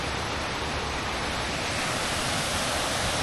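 Waterfall in a state park, a loud, steady broadband rush of falling water heard up close, unbroken and without talk.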